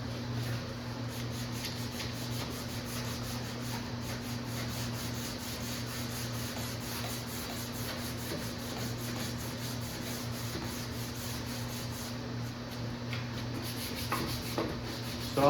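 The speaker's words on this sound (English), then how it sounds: "So I'm going to go ahead and sand all these edges down" Edges of a Tapper arcade cabinet are sanded by hand with 180-grit sandpaper, giving a steady, continuous scratchy rubbing over a low constant hum, with no talking.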